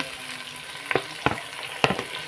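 Tomatoes fry in a pan for prawn biryani: a constant crackling sizzle punctuated by several sharp spoon clinks against the pan as they are stirred.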